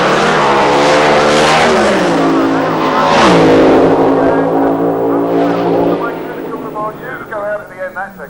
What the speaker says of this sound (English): Probably see him just sit there in pre-stage, like that top amber light, then really build up the RPM.